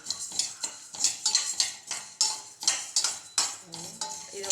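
Raw white rice being stirred and dry-roasted in a metal pan, with a spoon scraping and clattering against the metal in quick, repeated strokes throughout.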